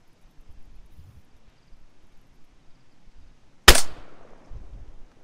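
A single sniper rifle shot in DayZ at Balota Airfield, a loud sharp crack with a decaying tail, fired at a target about 555 meters away after a few seconds of faint background noise.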